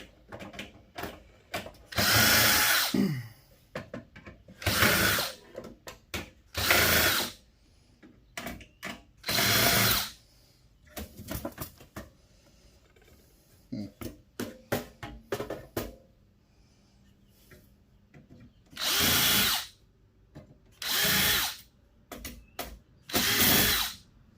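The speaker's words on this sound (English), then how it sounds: "now for the board, the motherboard, we want to get out. So let's take out the screws out of it" A power drill unscrewing screws from a computer motherboard during tower scrapping, in repeated loud bursts of whirring and ratcheting, about ten short runs separated by brief pauses and small handling clicks, close up with no talk.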